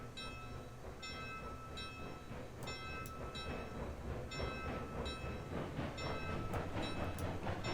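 Train engines pull railroad cars in the Railroads Online video game, giving a steady rumbling roll with a rhythmic clickety-clack of wheels and faint metallic squeals rising toward the end.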